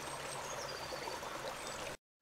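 Water flowing in a limestone stream, a steady close rushing and trickling babble that runs evenly, then cuts off abruptly into near silence.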